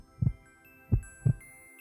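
Heartbeat sound effect for a smartwatch health ad: three deep, muffled thumps, a close double beat after a single one, over a faint steady hum.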